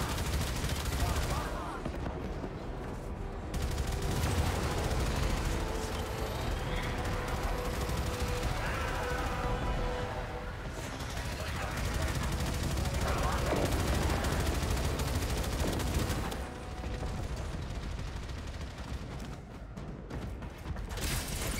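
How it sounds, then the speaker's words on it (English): Railjack torpedoes and ship weapons firing in a Warframe space battle, a dense, continuous roar of heavy blasts and rumbling fire that swells and dips without pause, with a voice speaking over parts of it. "Fire torpedoes."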